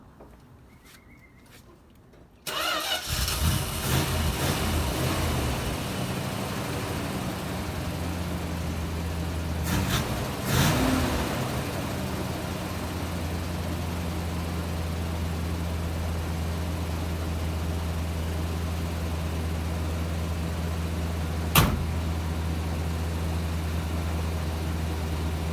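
A 1966 Plymouth Fury III engine cranks and catches after a few quiet seconds, then runs loud and steady at a rough idle with a deep, constant rumble. A sharp rev or pop comes near the end.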